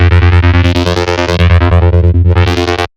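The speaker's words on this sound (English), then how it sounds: "Resonance prior to distortion gives really nice result, almost like it starts to scream like acid sounds." A resonant, distorted saw-wave synth played in Phase Plant gives a loud, screaming acid-style tone. It pulses in quick, even repeated notes for about three seconds and then cuts off sharply.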